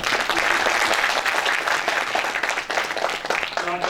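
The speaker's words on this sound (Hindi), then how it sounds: "अपने लिए जोरदार ताली।" Theatre audience at a national theatre festival play breaks into loud, sustained applause, dense clapping filling the room for several seconds and easing slightly near the end.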